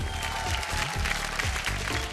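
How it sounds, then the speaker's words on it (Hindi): Studio audience applause greeting the judges on a Bhojpuri television show, a steady, dense clapping wash over a continuous musical backing throughout. "तब मुकाबला के शुरुआत करे से पहले जोरदार तालियों से स्वागत करी हमने के जजेस"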